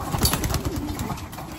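Soft, low pigeon cooing close by, a few gentle murmuring coos against a quiet background.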